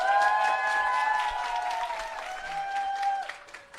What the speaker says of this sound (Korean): 박수 많이 쳐주시고 응원 많이 부탁드리겠습니다